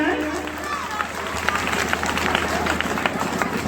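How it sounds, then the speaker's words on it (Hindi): A crowd at an Independence Day school gathering applauds to welcome the principal to the stage, a scattered patter of clapping with crowd murmur and some voices mixed in. "तालियों से स्वागत किया जाए।"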